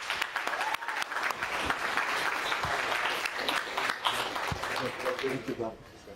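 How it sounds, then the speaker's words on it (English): A crowd at an after-match presentation gives a final round of applause for the fighter Chase Demoor, a dense burst of clapping with a voice speaking over it. "give Chase one more round of applause"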